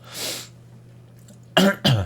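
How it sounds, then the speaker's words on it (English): A person coughs: one hoarse exhale early on, then after a pause two sharp, loud coughs in quick succession, close to the mic. "I apologize for all the coughing."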